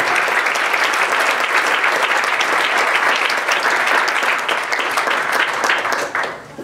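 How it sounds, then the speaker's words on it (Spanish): A congregation gathered for an afternoon church service claps loudly and steadily in a dense, sustained round of applause that tapers off at the very end. "yo me animaría a darle una fuerte ofrenda de aplauso para nuestro Dios en esta tarde"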